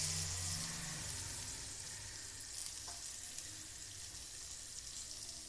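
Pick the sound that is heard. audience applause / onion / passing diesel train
onion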